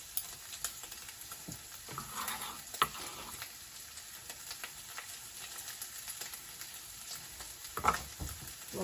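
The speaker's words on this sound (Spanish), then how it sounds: "Puede ver que el tocino ya se empieza a tostar. Ya se está friendo bien. Entonces, en este momento le echo la cebolla picada." Chopped onion sizzling with bacon in a frying pan, a soft steady crackle and hiss with occasional stirring scrapes, fairly quiet and close, no voices.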